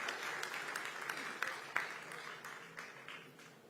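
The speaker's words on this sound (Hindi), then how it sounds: "हमारे देवेंद्र जी के लिए जोरदार तालियां बजाइए" An audience at a Sindhi cultural event applauds, a dense, fairly faint wash of clapping that fades slightly toward the end.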